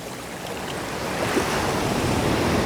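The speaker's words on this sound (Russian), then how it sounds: "Вот это волна." Sea waves wash onto the black sand beach of Praia Formosa, Madeira, a steady broadband roar of surf that swells slightly louder, with some wind.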